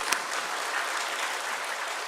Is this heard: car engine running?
no